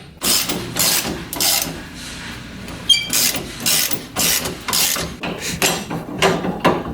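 Repeated bursts of a socket ratchet cranking off U-bolts on a Toyota Tacoma, about a dozen fast clicking runs with short pauses between, close and fairly loud with no talking.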